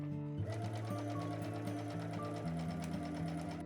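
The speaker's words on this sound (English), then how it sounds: "Sew along the center line using the longest stitch length on your machine." A sewing machine quilts a straight line down the center of a tote bag panel at its longest stitch length, humming steadily and close up with rhythmic, shifting motor tones and no talking.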